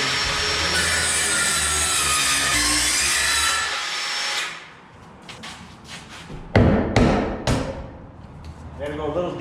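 A saw notching a wooden wall stud to make room for plumbing vent pipes during a house build, running loud and steady for about four seconds, then a few short choppy cuts with gaps between them.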